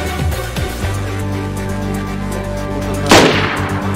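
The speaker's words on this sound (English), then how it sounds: "No, you're getting shot" A single sharp gunshot in the DayZ video game cracks out loudly near the end, over a steady low tonal drone. No voices are heard.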